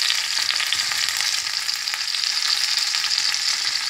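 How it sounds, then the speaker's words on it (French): Sardines fry in a pan for a Moroccan-style dish, giving a constant, loud, close sizzle with faint crackling throughout. "Donc, le poisson cuit rapidement."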